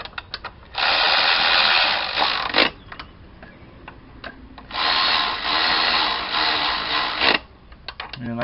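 Power tool tightening bolts on a 2003 Acura TL, running in two sustained whirring bursts with clicking and ratcheting ticks between them, close and loud, with no talking.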